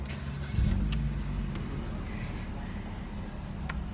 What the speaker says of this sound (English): I'ma try to leave the cell phone on so you can maybe hear the exhaust note